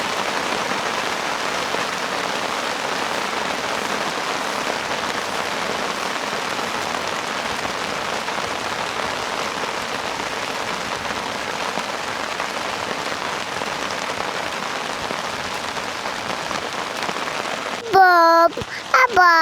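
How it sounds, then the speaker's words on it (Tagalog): Steady, dense rain falls outside at a riverside campsite, an even hiss of drops on surfaces lasting throughout, with a voice speaking briefly at the very end. "It's raining outside."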